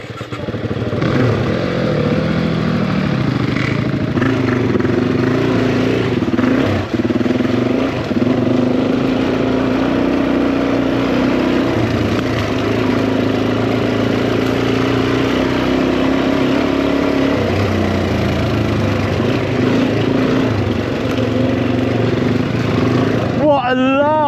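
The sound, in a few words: Suzuki DRZ400E trail motorcycle engine revving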